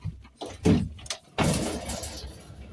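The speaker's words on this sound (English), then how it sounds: "that's how far the door opens" A Civic car door unlatches with a couple of quick clicks, then swings open with a rustling, slightly hollow sound, close by.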